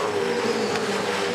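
V8 Supercars at the 2012 Bathurst 1000 race down Conrod Straight, a steady, loud engine drone with a sustained high-pitched whine and no pauses, with no talk over it.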